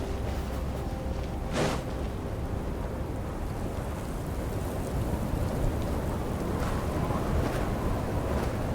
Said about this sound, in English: Let's get out of this storm.